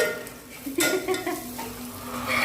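Curry leaves tempering in hot oil in a pan for sev curry, a brief loud sizzle burst with stirring and clinking of a spoon against the pan, steady frying hiss throughout.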